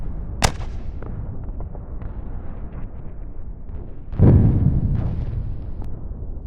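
A staged artillery gun sound effect in a school fall play of War of the Worlds, one sharp crack followed later by a deep, loud booming blast that rumbles and fades in the hall.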